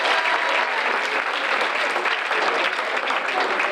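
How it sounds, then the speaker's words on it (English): A graduation audience claps in a dense, sustained burst of applause, loud and even throughout the hall. "I give you an extra round of applause."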